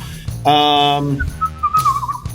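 A clear, close whistle holds one bright tone, then slides through a short wavering melody, with a low hum underneath.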